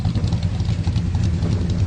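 The V8 of a 1965 Chevy Impala SS 396 runs close and loud in a short burst, a low throbbing engine pulse with no talk.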